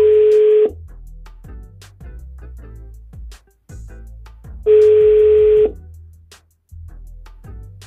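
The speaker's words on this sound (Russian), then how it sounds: "Для этого я наберу знакомого и попробую с ним пообщаться" A Pixus Scout mini Black portable speaker plays ringback tones while placing a call, two long steady beeps several seconds apart, loud and close, with low clicks and knocks in between.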